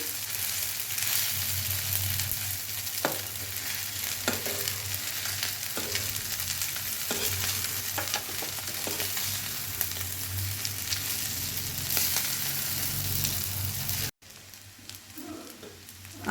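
Mixed chowmein with vegetables stir-fried in a pan in a small amount of oil, a loud continuous sizzle with recurring scrapes and stirring knocks, briefly dropping away near the end.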